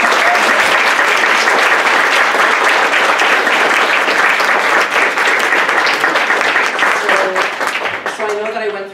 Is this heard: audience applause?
yes